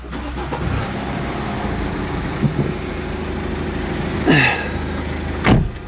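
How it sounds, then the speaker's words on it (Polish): A 2014 BMW 320d (F30) diesel car engine turns over and settles into a steady low idle, with two short louder bursts late on, recorded close by. "Odpalimy auto, żeby zobaczyć jak to wszystko funkcjonuje."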